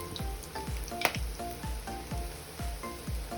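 Vegan calamari pieces sizzle steadily in hot oil over low heat, with soft repeated splashy thumps at a regular rhythm as pieces go in, close and fairly quiet.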